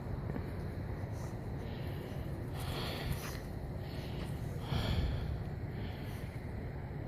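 A dog on a walk sniffs close to the microphone, giving soft, breathy snorts and sniffs over steady outdoor rumble.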